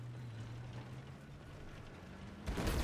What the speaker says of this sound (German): Hier explodiert es überall.